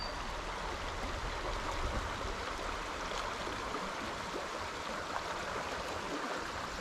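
Moving water of a trout stream on Flaugherty Run in Pennsylvania, a steady rushing flow heard close and alone throughout, with no voices.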